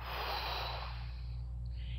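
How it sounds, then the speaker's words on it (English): A single long, deep exhale during a breathing exercise, close and soft, the breath slowly fading over about two seconds with no talking. "breathe in a little bit, breathe out a whole lot."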